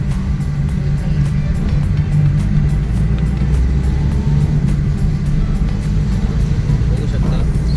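Vehicle driving along Vengurla Navabag beach in Konkan, a steady loud low engine and road rumble continuing throughout with faint background sound.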